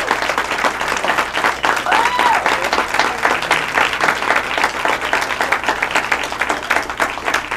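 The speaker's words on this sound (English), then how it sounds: "Give him a round of applause." An improv comedy competition audience claps and applauds steadily and loudly throughout, a dense crowd of hands with a faint whistle briefly rising over it.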